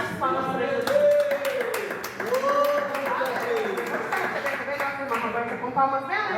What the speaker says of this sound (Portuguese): Com palmas bem altas.